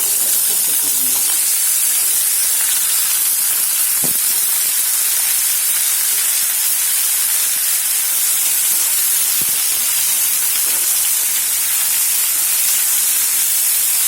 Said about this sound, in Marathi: आता याच्यामध्ये आपण आपल्या भाज्या एकदम कमी फ्लेमवरती आणि एकदम कमी तेलात